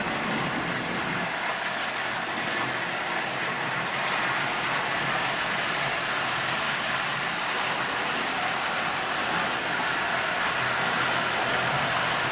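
A Lionel 33 standard gauge toy train runs on its track pulling five passenger cars, giving a loud, continuous rolling rumble and whir that stays steady throughout with no speech.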